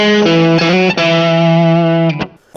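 Electric guitar through a single distortion pedal, sustained chords ringing with thick, saturated harmonics, re-struck a few times and then cut off near the end, loud and alone.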